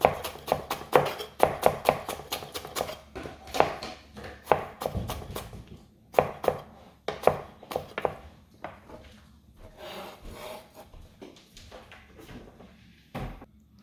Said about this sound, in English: Now it's easy to chop them in little pieces, right?